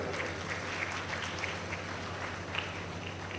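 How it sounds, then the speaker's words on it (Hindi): An audience of a Jain community youth group gathered in a garden hall for a student honors ceremony claps together, a soft, distant, even patter of applause with a faint hum behind it. "तालियां बजा दे"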